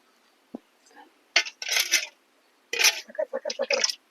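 Sugar mixture being stirred in a container, with a scraping and clinking utensil sounding in short close bursts separated by quiet gaps.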